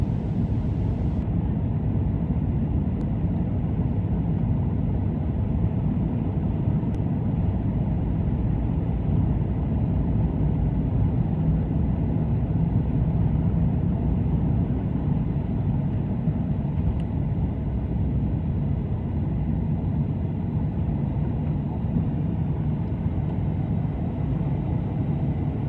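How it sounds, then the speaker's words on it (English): Inside the cabin of a KLM Boeing 737-800 during the takeoff roll, a steady, loud low rumble of engines and runway noise fills the whole stretch without a break. "Takeoff roll."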